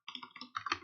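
Rapid clicks of a computer keyboard being typed on, about eight close, crisp keystrokes in under a second, with no voice over them.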